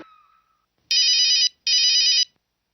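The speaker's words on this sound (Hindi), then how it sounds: "मिश्रा जी का भी फोन आ।" A phone ringtone sounds in two short, loud electronic bursts separated by a brief pause, after a faint noise at the start.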